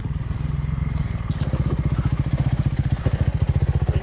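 An old Honda CRF 450X dirt bike engine runs close by, a loud, steady, rapid thumping idle with evenly spaced pulses that grow slightly stronger partway through, alone without talking.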